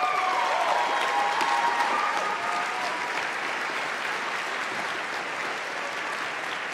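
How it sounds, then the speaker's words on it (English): An awards show audience at the Independent Games Festival applauds in a broad, sustained roar of clapping that fills the hall, steady and dense before easing slightly toward the end. "Let's give them a round of applause."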